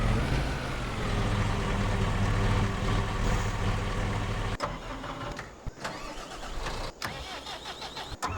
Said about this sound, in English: we can go ahead and fire our truck up and get the heck out of the way